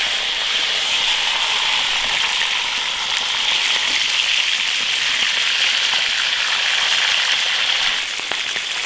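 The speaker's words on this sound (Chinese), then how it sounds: "煎到两面金黄" Snakehead fish slices pan-frying in an iron wok, a steady dense sizzle and crackle running evenly throughout, loud and close with no talk.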